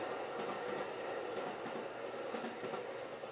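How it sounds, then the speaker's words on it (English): A train rolls past at night near a motel, a steady loud rumble and rattle of cars and wheels filling the whole stretch without a break. "Oh, the train is going by, sorry if that's loud."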